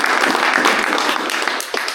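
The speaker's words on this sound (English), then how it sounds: "And how about another round of applause?" An audience at a talk breaks into a brief round of loud, dense applause, many hands clapping steadily throughout.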